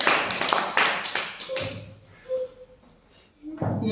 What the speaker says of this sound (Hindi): इनके लिए जोरदार ताली बजा दो।